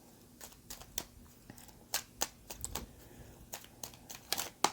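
La Vera Sibilla tarot cards being shuffled by hand, giving a quiet run of short, irregular papery clicks and riffles close to the mic, with no talking.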